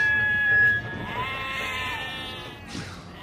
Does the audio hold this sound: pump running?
no